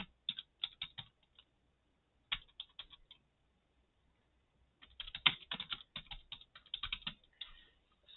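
Quiet bursts of typing on a computer keyboard, clicking keys in uneven runs with a long pause midway, then a busier flurry of taps near the end, with no voices.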